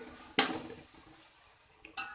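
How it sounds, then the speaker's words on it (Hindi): Spoon mixing red chilli powder, turmeric and chicken powder in a cooking pot for dal pulao, two sharp clinks of metal against the pot with quiet scraping between them, close and alone. "अब अच्छे से इसकी करती हूँ मिक्सिंग।"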